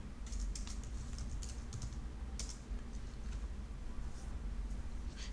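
Fingers typing a password on a computer keyboard, a quick irregular run of light clicks and taps over a low hum, close and fairly quiet, with no talking.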